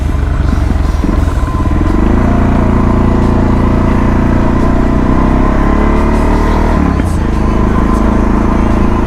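A Honda CRF 125F dirt bike engine runs loud and close throughout, holding a steady droning note with gear-like shifts and a brief dip near the end.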